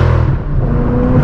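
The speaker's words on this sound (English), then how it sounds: "with the Catless Downpipes, you can really hear those turbos spooling up" An 800HP manual BMW M6 Gran Coupe with catless downpipes revving, with turbo spool rising over a brief, loud, close engine roar.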